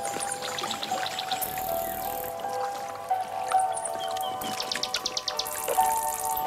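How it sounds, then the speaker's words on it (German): Bright, varied nightingale song with quick trills and whistled phrases, fairly close, over a faint steady background hum. "Eine Nachtigall."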